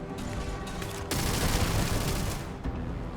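Dense assault rifle fire in Starfield, a continuous fusillade of overlapping shots that thickens into a loud, rolling roar through the middle before easing slightly, with no talk.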